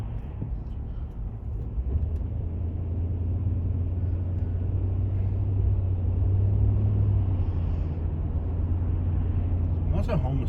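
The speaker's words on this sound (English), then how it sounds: "Stop and go. Traffic sucks." Stop-and-go road traffic near Panama City Beach: a steady low engine rumble from inside a vehicle, swelling slightly as it moves, with no clear voices.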